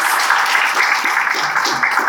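Audience applause at a young CEOs' business forum, a steady wash of many hands clapping, fairly close and continuous throughout with no pauses.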